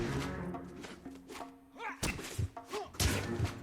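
Heavy thudding punches land in an L.A. Noire fist fight, several irregular close blows between grunts and spoken voices.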